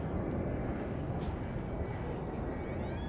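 A Challenger 350 business jet at a busy airport gives off a steady, broad engine roar that holds loud and constant throughout, with no talk over it.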